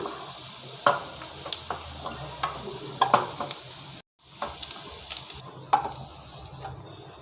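Lightly browned onions being lifted out of hot oil in a Bengali kitchen, with a faint sizzle underneath, scattered clinks and scrapes of a slotted spoon, and soft bubbling throughout.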